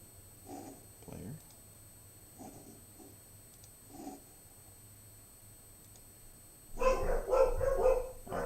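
Indoor dogs barking at a mailman outside, a few short barks early on, then a louder burst of barking and yipping near the end.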